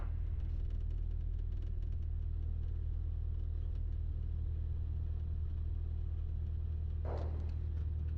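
A light aircraft engine accelerating for takeoff from runway 29 left makes a steady, muffled low drone throughout, with a short hissy burst near the end and no speech.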